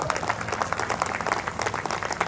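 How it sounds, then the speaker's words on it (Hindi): An audience at a business networking session claps vigorously, rapid overlapping hand claps forming a steady, lively patter with a low musical hum underneath. "तो हमन बच्चा की तरह जोरदार ताली बजाते"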